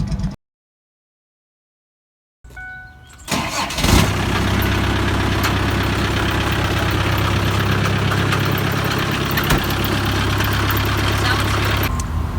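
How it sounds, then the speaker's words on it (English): A 2001 Ford Ranger with a 4-cylinder Kubota turbo diesel engine cranks after a silent pause and fires up, settling into a loud, steady, clattering diesel idle close by. "this is my 2001 Ford Ranger that has a 4-cylinder Kubota turbo diesel engine in it"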